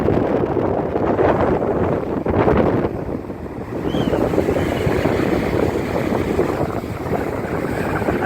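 Waves and strong wind batter a Gulf beach at Stump Pass in Englewood, Florida, during Hurricane Michael, with a rough, constant roar of surf and gusty wind buffeting the microphone, briefly easing midway before surging again.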